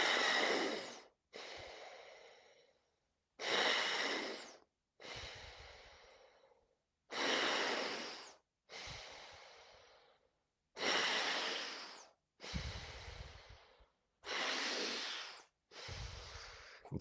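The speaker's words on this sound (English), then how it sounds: "strong breaths." Ten strong, forceful breaths through a breathing training sports mask set to high resistance, each a loud, close, hissing rush of air alternating inhale and exhale in a steady rhythm separated by short silences.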